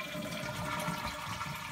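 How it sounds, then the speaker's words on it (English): A Mansfield toilet tank being flushed to empty it before a fill valve and flush valve replacement, a steady rushing water sound, fairly faint and continuous with no talk. "Then flush the tank to empty the water."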